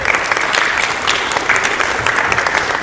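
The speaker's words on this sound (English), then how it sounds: "please join me in one last round of applause" Audience at a school board meeting clapping in a steady, even round of applause that fills the room without a break.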